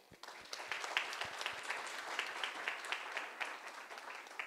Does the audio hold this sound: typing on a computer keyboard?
no